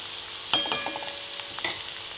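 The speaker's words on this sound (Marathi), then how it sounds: "आता आपलं छान फोडणी उकळते." A tempering (phodni) of spices in hot oil sizzles close by with sharp pops and crackles over a steady hiss, the bursts coming in two louder clusters.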